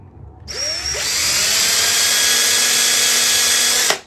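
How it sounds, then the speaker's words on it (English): A power drill spins up from rest and whines steadily for about three seconds at close range while marking a guitar fretboard, then cuts off abruptly. "I'll take my drill,"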